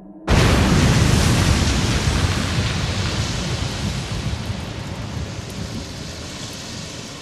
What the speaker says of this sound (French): une énorme explosion eut lieu